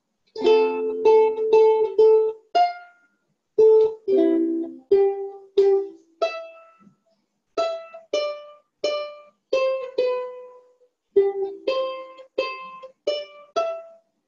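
A ukulele picks out a short melody, single plucked notes in a steady rhythm with brief pauses between phrases, close and clear, no voices.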